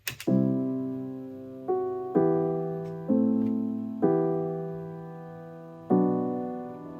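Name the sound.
piano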